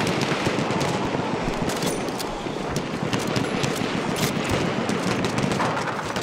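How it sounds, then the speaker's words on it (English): Sustained machine gun fire in the Battlefield 1 video game, a dense continuous rattle of rapid shots filling the whole stretch, loud and close with no talk over it. "Look out, machine gun."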